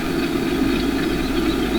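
Tractor engine idling with a steady low rumble and a continuous throaty hum, close and even throughout with no voices.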